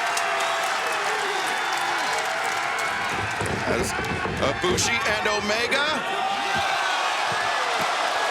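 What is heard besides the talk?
live wrestling crowd cheering in Seattle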